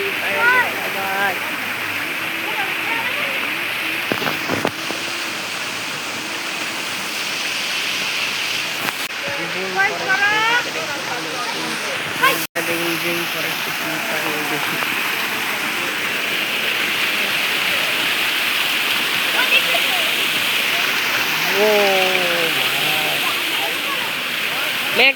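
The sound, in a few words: waterfall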